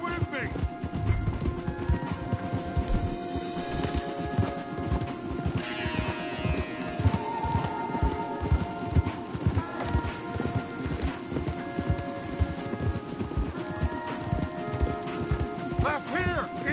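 Several horses galloping hard through Red Dead Redemption 2, a dense, continuous drumming of hooves up close with occasional whinnies, under intermittent talking.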